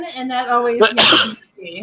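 A single sharp sneeze bursts out close by in the middle of someone's speech, the talking carrying on just after it.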